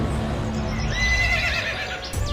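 A horse neighs loudly as a sound effect in a narrated Hindi moral story, one drawn-out, wavering whinny rising then falling, with a faint hoof clatter and low background rumble.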